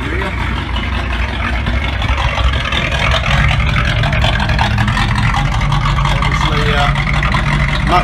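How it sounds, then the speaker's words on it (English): A 1981 Corvette C3 with rear mufflers removed for straight-through pipes rumbles steadily at idle, a loud, deep, continuous exhaust drone with someone speaking over it. "Much better exhaust."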